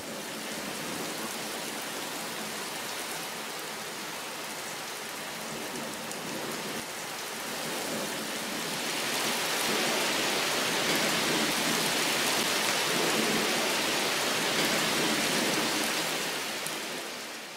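Steady rain pours down in a dense, hissing patter that swells slightly louder midway and keeps going without a break.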